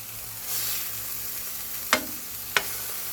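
Shiitake mushrooms from Haenam stir-frying in a pan give a steady, moderate sizzle throughout, broken by two sharp clacks of a utensil against the pan.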